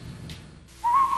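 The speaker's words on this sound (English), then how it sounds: "When you think of Andy Griffith, whistle a little tune." A short whistled phrase of the Andy Griffith Show theme tune, a single clear, close whistle entering after a brief stretch of quiet room tone.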